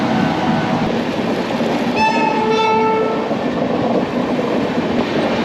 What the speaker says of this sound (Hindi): सामने ट्रेन आ रही है लालगुड़ा 2087।